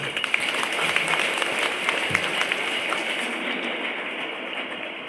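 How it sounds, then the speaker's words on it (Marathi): An audience bursts into hearty applause at a spiritual gathering, a dense, crackling stream of many hands clapping loudly and continuously, easing off slightly toward the end. "त्या शिवबाबांसाठी जोरदार टाळ्या वाजवा"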